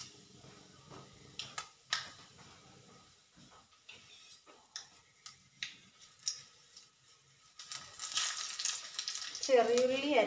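Mustard seeds and fenugreek sizzle and crackle in hot oil, with scattered pops and a brighter, denser fry building toward the end, alone without talk.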